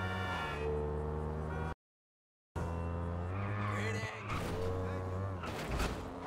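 A car in GTA V with an XJ6 mod accelerates through traffic, its engine droning in rising tones before tires squeal in a skid. A brief dropout breaks the sound, and a voice speaks near the end.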